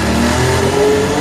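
A Formula 1 car at the Turkish Grand Prix in first gear, engine running very low revs and nearly stalling, gives a steady, loud mid-pitched drone with a slowly rising tone.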